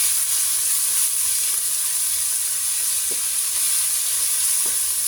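Meat for chopsuey sautéing in a pan, a constant bright hissing sizzle with a few faint clicks of a utensil, steady and close throughout.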